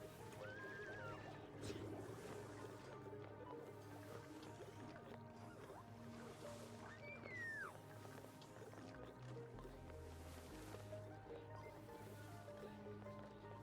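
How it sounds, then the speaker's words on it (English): Pet cat Mamba meows twice, short rising-and-falling calls near the start and again midway, heard indoors over steady background music. "he's making his presence known by meowing"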